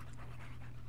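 A dog in The Sims 3 pants steadily in a short, soft burst of quick, even breaths with no talk over it.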